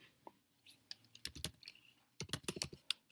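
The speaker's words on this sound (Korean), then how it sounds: "컨트롤 Y를 눌러서" Computer keyboard keys being pressed in quick clusters of crisp clicks, a shortcut typed while working in After Effects software, close and fairly quiet with no talking.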